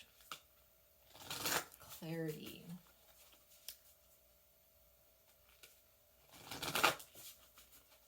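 Oracle cards being shuffled for a tarot reading, giving two separate bursts of papery riffling, one early and one near the end, with a brief spoken word between them.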